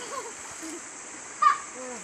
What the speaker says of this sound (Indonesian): lagi mandi mandi di sungai yang kecil ini